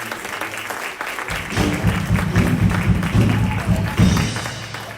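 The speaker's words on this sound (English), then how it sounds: "let's give the band a round of applause just as our gratitude" A church congregation at a Sunday service applauds the band, with a continuous clatter of clapping hands that swells after a brief start and carries on for several seconds.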